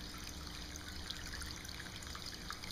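Water trickles steadily through a large 18-inch hand-sculpted stone lotus tabletop fountain, a soft continuous babble with no voices.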